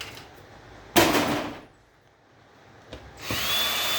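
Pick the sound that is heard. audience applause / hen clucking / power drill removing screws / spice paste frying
power drill removing screws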